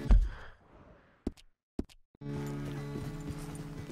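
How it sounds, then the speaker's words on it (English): A horse walks in Red Dead Redemption 2, with a few sharp, isolated hoof knocks against near silence before a droning ambient bed swells in. "The horse can feel your fear."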